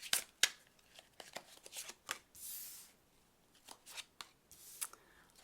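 Oracle cards are shuffled and handled in a quiet room, with several crisp, close riffling bursts and soft slides between brief pauses.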